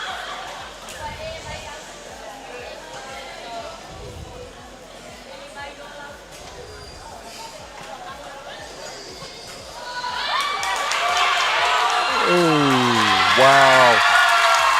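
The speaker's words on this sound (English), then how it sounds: "Wow, that was appreciated by the crowd." Crowd cheering and applause swelling at an IBFC Universal Cup badminton competition in Samoa, rising loudly in the final seconds over a busy arena hum, with a commentator talking throughout and a whistle-like voice gliding near the end.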